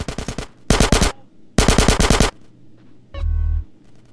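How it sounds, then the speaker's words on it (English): Loud bursts of automatic gunfire from GTA San Andreas rattle in three rapid volleys, followed by a heavy low-pitched blast, all close and punchy with short gaps between. "Get some suppressing fire in there!"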